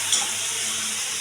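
Water poured into a cooking pan of onion-tomato masala with turmeric and chili for a mushroom curry, a steady close hiss lasting about a second.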